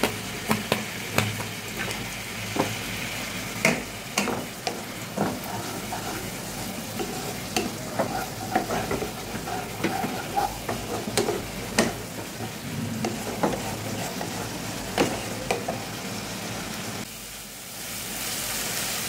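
Spice masala with chilli powder frying in oil, heard as a continuous close sizzle broken by repeated sharp scrapes and knocks of a spoon stirring the pan, without any talking.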